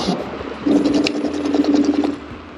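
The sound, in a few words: e-scooter anti-lock brakes pulsing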